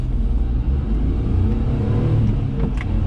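A Daihatsu Hijet kei truck driving in all-wheel drive gives a steady, loud, low engine rumble with a constant drone and road noise. It runs continuously, with no talk over it.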